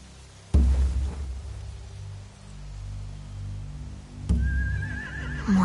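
A horse in The Walking Dead video game whinnies, a high wavering neigh rising out of low ambient rumble near the end, following two sharp thuds.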